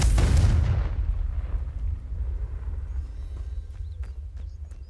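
Confringo fire spell blast in Hogwarts Legacy, a loud booming explosion at the start that decays into a rumbling tail, with faint game effects afterward.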